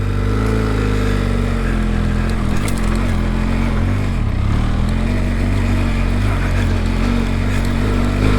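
A Benelli TRK 502X adventure motorcycle on trials tyres labours up a steep, slippery hill in the Pyrenees Ranges, its engine droning loud and steady with small rises and dips in pitch throughout.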